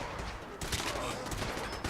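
Default weapons fire in a video game fight against enemies, a dense, continuous barrage of rapid shots that crowds the whole moment at moderate loudness.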